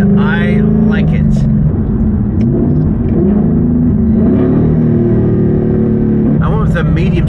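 A 2024 Ford Mustang with an MT82 transmission and a Steeda Tri-Ax race shifter accelerates, its engine droning steadily and loud from inside the cabin, with someone talking over it throughout.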